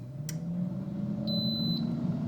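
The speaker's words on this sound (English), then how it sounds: "It'll probably beep and tell me to turn it." A Vortex air fryer beeps once, a single steady electronic tone of about half a second over a low fan hum, close by with no talk.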